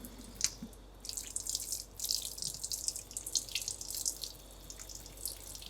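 Running tap water pours steadily over hands during an aseptic handwashing procedure, a continuous hissing splash with small drips, close and alone with no talk.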